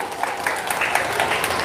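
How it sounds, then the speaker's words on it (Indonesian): An audience claps in a continuous, even wash of applause at a gathering honouring children who became Quran memorisers, steady and fairly loud throughout with no speech over it. "Tepuk tangan untuk kita semua."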